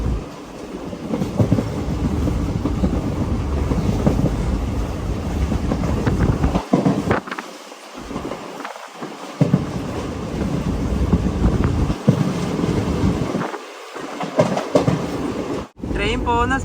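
The Guruvayur to Thrissur Express runs at about 90 km/h through paddy fields in Kerala, a continuous loud rumble with wind noise and a few louder clatters, heard from inside the moving train.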